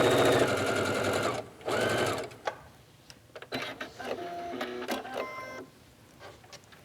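A sewing machine stitches a long seam along sheer fabric, its needle hammering in a fast steady run for a couple of seconds, then pausing and resuming in shorter, quieter bursts.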